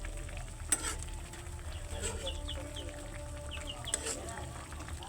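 Sponge gourd (patola) simmering with canned sardines in a pan, a low steady sizzle and bubbling with occasional stirring clinks and faint chirps, no talking.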